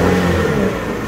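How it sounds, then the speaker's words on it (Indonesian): A 2017 Toyota Vios G automatic sedan engine revs up, a steady, smooth mid-pitched hum heard close and loud, held briefly with no one talking. "Nih, mesinnya masih oke, masih halus dan masih nyaman buat dikeber."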